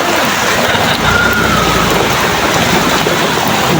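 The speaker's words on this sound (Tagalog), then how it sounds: "Subog-subog ang ulan," A loud, constant wash of heavy rain falls in stormy weather where tricycle drivers have taken shelter; the broad hiss holds steady from start to finish, with no talking.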